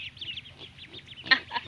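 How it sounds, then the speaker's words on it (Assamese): Ten newly bought ducklings cheep in rapid, high-pitched peeps, close and fairly clear, with a brief louder squeak near the end and no talking. "আমাৰ হাঁহ পোৱালি আনিলোঁ"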